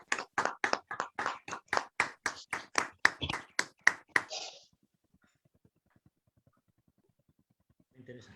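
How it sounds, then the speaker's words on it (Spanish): Webinar participants applaud the speakers over their microphones with a run of roughly fourteen quick, evenly spaced claps lasting about four seconds, then near silence before a faint voice at the very end. "podemos activar ahora nuestros micrófonos y un aplauso a los ponentes"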